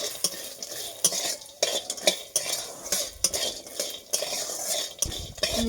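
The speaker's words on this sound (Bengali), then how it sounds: "এই যে বড়িগুলো দিয়ে দিলাম। একটু লাল লাল করে ভেজে নেব।" Bori lentil dumplings fry in a kadai on a clay stove, stirred repeatedly with a metal spatula, giving sharp scraping clinks at an irregular rhythm over a low background sizzle, close up with no talking.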